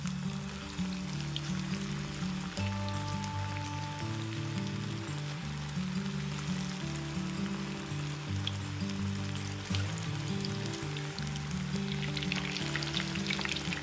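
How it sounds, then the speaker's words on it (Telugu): Street-style chicken 65 deep-fries in hot oil, a loud continuous crackling sizzle with a low background hum layered beneath, steady from start to finish without talk. "ఆయిల్ వేడయ్యాక చికెన్ని వేసి వేయించుకోవాలి."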